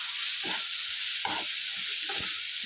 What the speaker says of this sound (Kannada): ಇದನ್ನು ಒಂದು ಫ್ಯೂ ಮಿನಿಟ್ಸ್ ಹೀಗೆ ಫ್ರೈ ಮಾಡ್ಕೊಳ್ಳಿ